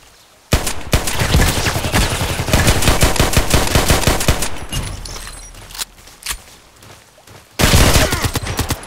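Gunfire rings out in the online shooter Contract Wars on the Lighthouse map, dense rapid cracks and bursts from several weapons overlapping loudly for most of the stretch, easing briefly near the end before a fresh close volley erupts.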